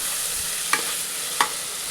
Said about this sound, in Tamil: வெங்காயத்தை ஸ்லைஸாக அரிஞ்சு செய்கிறேங்க, அப்போ தான் டேஸ்ட்டாக இருக்கும். பாஸ்தாவுக்கு நல்லா வதங்கணும்.